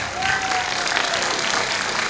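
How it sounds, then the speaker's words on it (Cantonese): An audience at a Hong Kong concert applauds with cheering, a dense, continuous wash of clapping from a crowd with some voices mixed in, steady and fairly loud throughout. "我哋需要一啲更加熱烈嘅掌聲"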